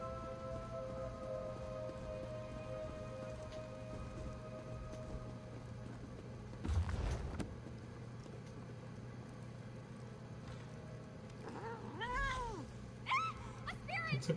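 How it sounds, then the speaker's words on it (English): In The Elder Scrolls Online, a cat meows a few times near the end over a steady rain-like ambience, with a brief thump earlier on. "It's a cat."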